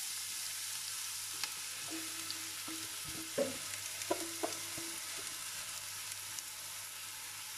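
Vegetables frying in very hot oil in a pan, a steady dense sizzle with a few scattered pops and light utensil knocks, close and continuous with no speech.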